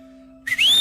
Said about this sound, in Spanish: Yo aprendí a chiflar, hermano.